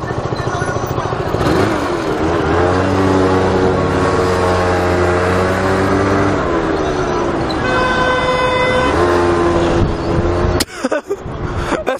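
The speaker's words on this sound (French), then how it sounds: "Y'a tout le monde qui klaxonne." Car horns blare in busy city traffic around a scooter rider: long sustained, loud honks overlap for several seconds, then a shorter run of toots follows over constant road and engine noise.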